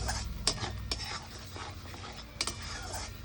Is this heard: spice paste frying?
yes